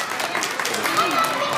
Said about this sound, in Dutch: zullen we eerst even een groot applaus geven aan Minnie?